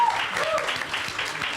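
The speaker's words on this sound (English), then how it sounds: "Can we just give another big round of applause for our panel?" An audience claps for a panel of speakers, a soft, even round of applause that holds steady, with a voice briefly heard over it.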